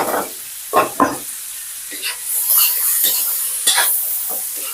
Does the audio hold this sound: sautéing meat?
yes